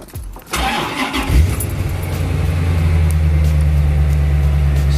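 A Chevrolet Corvette C4 engine cranks and starts up close and loud, with a brief starter whir that catches and settles into a steady, rumbling idle.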